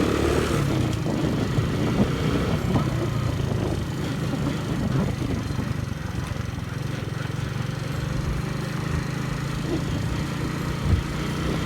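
Motorcycle engine running near the rider, a steady buzzing drone that holds through the ride with slight rises as throttle is applied, no speech over it.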